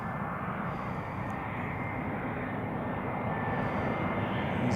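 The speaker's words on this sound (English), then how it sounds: "got an EasyJet just coming in as well" An EasyJet airliner comes in to land at Glasgow Airport, a steady loud jet roar with broadband rumble holding constant and swelling slightly toward the end, with no talk.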